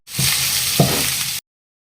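Onion, garlic, green chillies, curry leaves and coriander fry in hot oil with a loud, dense sizzle and one brief clack from a utensil before the sound cuts off.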